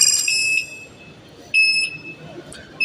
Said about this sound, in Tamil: பீப் சவுண்ட் வந்துடும். ஸோ ரிவர்ஸ் எடுக்கும்போது.